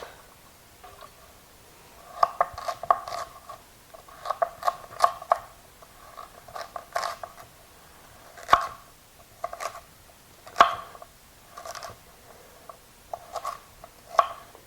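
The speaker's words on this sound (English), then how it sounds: "Just cut them in quarters and then just cut those into pieces." A knife chops potatoes into bite-sized pieces on a cutting board, giving crisp, close taps in irregular bursts with short pauses, quiet and alone.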